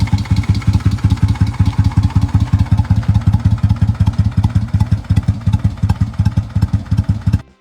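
A vintage Moto Guzzi motorcycle engine runs close by at a steady idle, its rapid, even low thumps pulsing without a break from start to finish.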